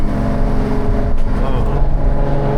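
An Audi engine with 100,000 miles on it revs loudly and continuously up close, its low, dense drone holding steady with a slight rise and fall throughout.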